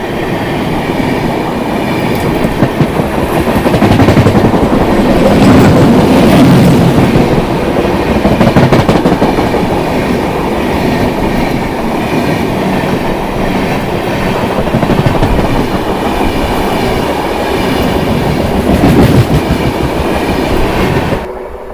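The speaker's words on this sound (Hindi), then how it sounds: "लगभग 2 मिनट के होल्ड के बाद हमारी ट्रेन यहाँ से डिपार्ट हो गई है" The Lalkuan Amritsar Express pulls away with a loud, continuous rumble and a steady clickety-clack of wheels over rail joints, heard close from on board.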